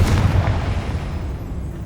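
Confringo blasting spell exploding in the Hogwarts Legacy game, a loud deep boom that hits at once and rolls off into a fading rumble, with no talk.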